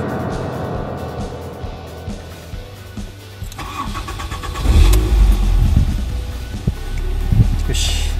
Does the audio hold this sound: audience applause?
no